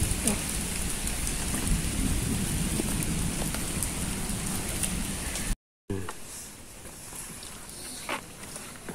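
Steady heavy rain pours down with low rumbling thunder for most of the stretch, then after a brief cut the downpour continues more softly with scattered drips and faint distant sounds.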